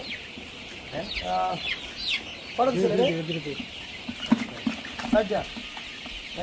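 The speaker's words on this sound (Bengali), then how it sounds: "5টা মুরগি দেন আমাদের, 5টা মুরগি দেন" Colour broiler chickens on a farm cluck and squawk in short bursts, with several louder agitated cackles, while people talk nearby during a weighing.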